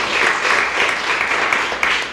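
Indoor audience applause at a Board of Freeholders commendation presentation: a brief burst of steady, dense clapping from a room of people.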